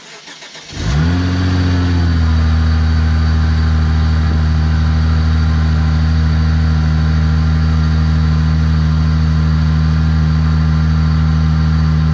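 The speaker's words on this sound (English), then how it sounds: "So I'm gonna try to start her up, give her a couple spins, show you guys what she sounds like." Engine of a rebuilt, previously wrecked Hyundai Genesis car cranks briefly, catches and settles into a loud, steady idle that continues unchanged, close up and with no voices.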